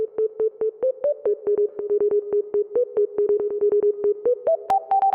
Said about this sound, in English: It sounds like Morse code or something like that, mixed with dubstep.